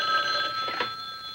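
A telephone rings with a bright, sustained electronic bell tone, steady and fairly loud, with a brief rustle partway through and no speech.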